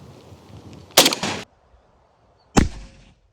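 An AK-74 rifle fires at a Russian armor plate, giving a loud, sharp crack with a brief ringing tail, after an earlier burst of noisy clatter, outdoors with no talk.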